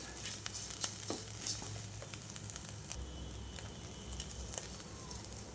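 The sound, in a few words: chutney ingredients frying and being stirred in a pan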